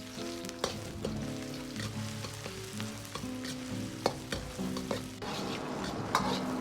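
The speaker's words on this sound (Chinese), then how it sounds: "放入适量的葱油，油热后下入葱姜蒜" Scallion, ginger and garlic are stir-fried in scallion oil in a hot wok, giving a close, steady sizzle with scraping stirs of a utensil against the pan, and no talk.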